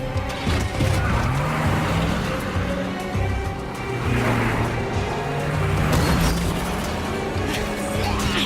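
Truck driving and skidding in an Xbox game trailer, a loud continuous engine roar with tire squeal and rumbling motion throughout, dense and close, with no clear talk over it.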